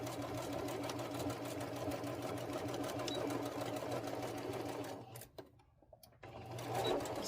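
A sewing machine stitches quilt pieces in a steady, continuous whir, close and loud for about five seconds, then briefly stops and restarts.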